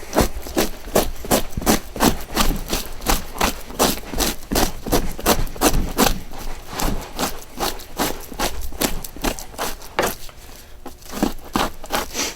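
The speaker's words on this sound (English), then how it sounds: "I'm using the scraping edge. This is the dull edge of the knife." The dull edge of a knife scraping fat off a trapped animal's pelt, rhythmic close strokes repeating roughly every half second, loud and steady with no talk.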